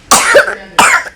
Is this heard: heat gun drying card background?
no